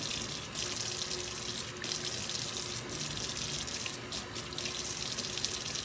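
Hot water pours steadily from a sink tap during handwashing, a constant close hiss and splash with faint shifts as hands move under the stream, no talking over it.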